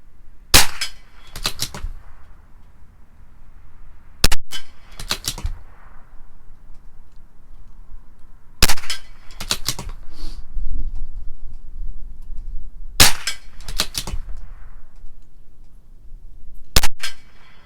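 A CZ 457 .22 rifle firing Norma Tac-22 ammunition at a 50-yard range: five sharp, close cracks spaced a few seconds apart, each with a brief echo, over quiet background and no talking.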